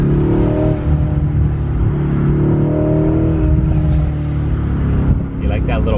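A Mercedes-AMG accelerates hard while passing another car, its engine roaring steadily and loud from inside the cabin, with people talking over it throughout.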